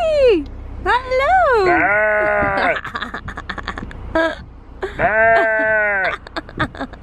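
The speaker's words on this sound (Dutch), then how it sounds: "Kijk, deze intratuin heeft gewoon geiten." Goats at a garden centre bleat loudly and close up, several long wavering cries in succession, with people's voices heard among them.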